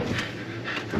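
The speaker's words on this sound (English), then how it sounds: "let's go wash this smelly dog" Dog panting after a wash at a self-serve dog wash, quick close breathy puffs repeating in a short rhythm, with no talking.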